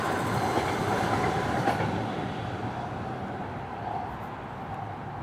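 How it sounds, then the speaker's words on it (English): A train passing near a highway, with a loud steady rumble and clatter of wagons that fades slightly toward the end, heard alone without talk. "Oh, another train."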